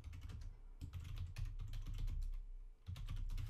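Quick bursts of typing on a computer keyboard, close and clear, with rapid clustered keystrokes separated by short pauses and no talking.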